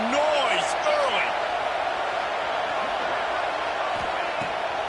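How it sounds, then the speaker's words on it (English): Stadium crowd noise from an NCAA 26 football video game, a dense, continuous roar at steady loudness with a few faint whoops on top and a commentator talking over it. "This crowd bringing the energy and noise early."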